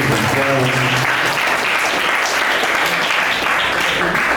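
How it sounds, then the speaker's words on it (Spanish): Audience at a secondary-school debate bursts into steady, loud applause for the students, dense clapping filling the room throughout, with a brief voice at the start. "Estudiante Gonzalo Violada, aplausos para los estudiantes."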